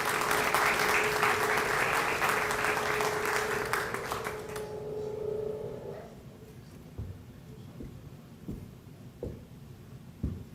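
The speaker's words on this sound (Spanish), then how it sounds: "Lo recibimos con un caluroso aplauso." Warm audience applause at a formal award ceremony honoring democratic values, loud sustained clapping that stops abruptly partway through, followed by a quieter room with a few scattered thumps.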